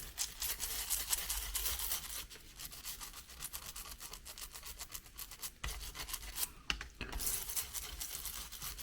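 A brush scrubs the sound card circuit board from a Roland Jupiter 4 synthesizer with rapid, close, raspy back-and-forth strokes. The scrubbing runs steadily with a few brief pauses and no talk.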